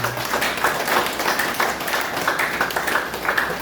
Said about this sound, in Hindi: तो तालियां होनी चाहिए।